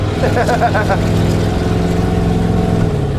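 A V8 engine in a late-1980s to early-1990s Ford Bronco, with the ABS and engine warning lights on, revs up in a short throaty burst and then settles into a steady rumbling idle, close by and loud, with people talking over it.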